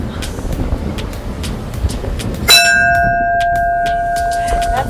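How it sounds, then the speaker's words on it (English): A bell at the top of the Key West Shipwreck Museum tower in Florida is struck once midway, its bright tone ringing on and slowly fading over outdoor wind and distant traffic. "you have to ring the bell that you made it all the way from down up to the top"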